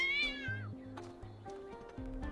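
A cat meows in the video game Talos Principle II, one clear rising-falling meow followed by softer cat sounds over a stepping synthesized game tone, fairly faint.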